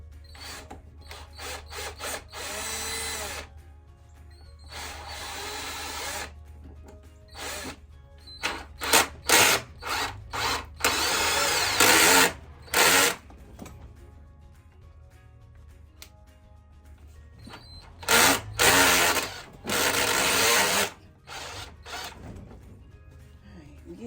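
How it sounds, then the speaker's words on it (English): Power drill driving decking screws into a garden prep table, heard as repeated short bursts of whirring with pauses between, close and fairly loud. "basically I'm taking the decking screws and I'm getting it in contact."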